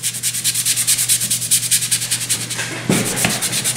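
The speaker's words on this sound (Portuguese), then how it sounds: "a gente pode vir com uma lixa e suavizar essa mancha" Sandpaper rubbed in quick back-and-forth strokes over the surface of an embossed paper butterfly box, a steady close scratchy rasp with one heavier scrape near the end, no voices.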